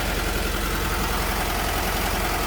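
A 1968 Mercedes diesel engine runs steadily nearby, a loud continuous rumbling drone with even low-pitched pulsing and no talking.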